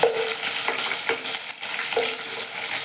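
Onions fry in a pan with a constant close sizzle, punctuated by several scraping stirs at regular intervals.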